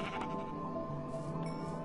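Sheep in a survival video game bleat repeatedly, a steady wavering cry that fills the short moment with no talk over it.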